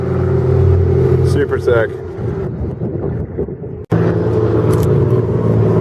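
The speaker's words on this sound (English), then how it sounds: "he now has dual fucking smokestacks on that thing. That's the exhaust." A car engine with dual smokestack exhaust idles and revs with a loud, rumbling drone, easing briefly before picking back up, while someone speaks over it.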